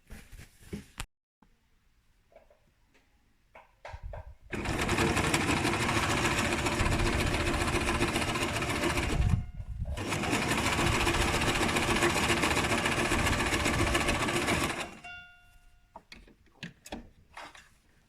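A sewing machine stitches a fabric face mask in two long, steady runs of loud mechanical whirring, split by a short pause, with quieter handling clicks before and after.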